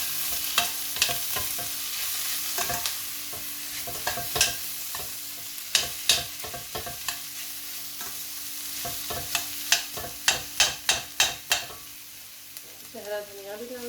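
Potatoes being stirred into a spice mix of pomegranate seeds, salt and chilli in a pan, with repeated sharp scraping strokes and clinks of the spoon over a soft sizzle, growing busier toward the end.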